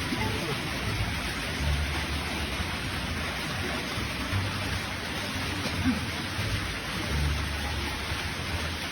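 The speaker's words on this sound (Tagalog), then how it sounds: "Kulog." Steady rain hisses continuously under a thunderstorm, with soft, low thunder rumbles rolling in now and then beneath the downpour.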